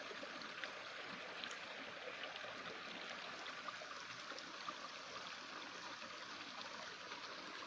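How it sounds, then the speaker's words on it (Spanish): Water trickles away through rocks in a mountain stream in Chiapas, making a faint, continuous, even wash of flowing water with no voices. "Esta es la muestra que el agua se está yendo por este lado."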